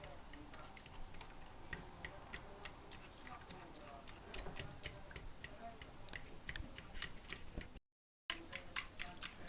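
Rapid, steady clicking of a fork whisking eggs against a bowl, close and continuous, briefly cut off near the end.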